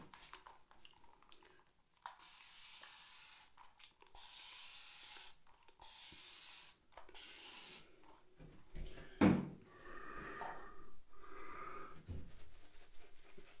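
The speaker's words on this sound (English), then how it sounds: "So on with the spray again." Repeated hissing bursts from a spray bottle during a wet shave with a Merkur Progress razor, four short close sprays in quick succession followed by softer handling noises and rustling.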